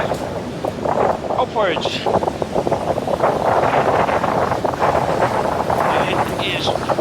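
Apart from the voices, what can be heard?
strong wind during Storm Kathleen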